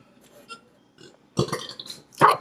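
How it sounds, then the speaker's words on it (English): A person lets out a couple of short, loud burps, each with a brief voiced croak, and quiet sounds come between them. "Stop burping."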